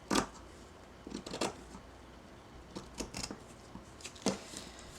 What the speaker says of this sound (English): Using my Tim Holtz scissors,